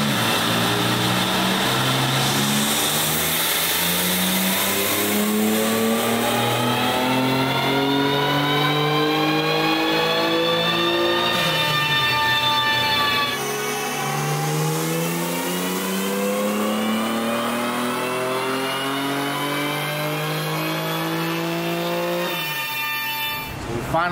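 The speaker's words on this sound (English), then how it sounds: "We're getting ready to get this thing in dyno mode now" An AWD BMW M3 on E30 fuel at 28 psi of boost revs hard on a dyno, its engine pitch climbing steadily through long pulls with a shift in between. It is loud and continuous throughout.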